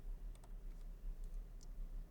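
Computer keyboard typing, faint and sparse, a handful of scattered light key clicks over a low background hum, no talk.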